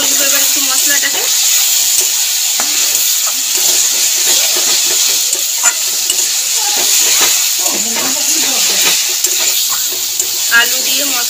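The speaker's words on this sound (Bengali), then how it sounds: "আলুটা দিয়ে কষবো এবার একটু মশলাটাকে" Pre-fried potatoes stirred into bubbling spice masala for a fish curry, a loud, close sizzle with frequent scraping and clattering of the spatula.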